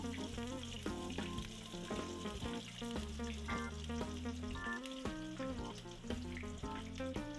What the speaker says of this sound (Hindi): इसको ये जो मैंने कढ़ाई में तेल गर्म हो रखा था इसमें ऐड करूँगी।